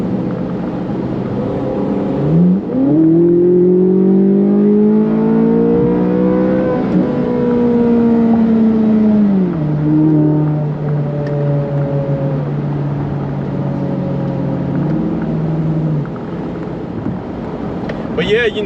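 2024 Corvette Z06 engine revved hard: a loud, rising wail that sweeps up, holds, and falls away, followed by a few shorter blips, with wind buffeting and brief talk nearby.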